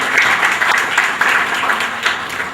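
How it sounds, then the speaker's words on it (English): A brief burst of audience applause following a vote of thanks at a seminar, dense and close, with slight swells in intensity over a couple of seconds. "request you all to carry out with this round of applause"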